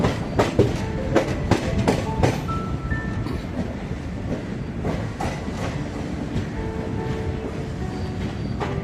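A passenger train on the Shalimar to Puri route runs near Khurda Road. Steady close rumbling is broken by a quick series of rhythmic clickety-clack beats at the start and more scattered wheel clacks after that.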